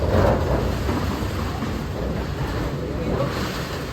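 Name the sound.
heavy rain in a storm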